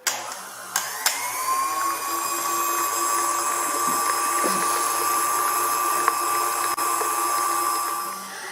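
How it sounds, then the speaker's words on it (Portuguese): An electric stand mixer beats eggs with sugar for a Christmas walnut pie batter, a steady high motor whir running continuously after a couple of startup clicks, close and even, with no talking. "aqui nós vamos bater todos os ovos junto com o açúcar"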